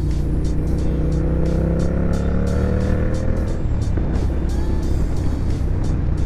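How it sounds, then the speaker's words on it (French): A motorcycle ridden on an open road, its engine droning steadily with rising and falling pitch as it shifts and revs, close and loud over continuous wind rush, with no talking. "Ça faisait un mois que j'avais pas pris la moto."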